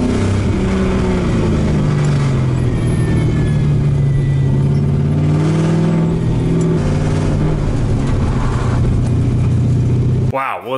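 An LS V8-swapped Mazda Miata accelerates hard on a test drive, its loud, continuous engine drone climbing and falling in pitch as it pulls through the gears, close and steady for about ten seconds before cutting off abruptly.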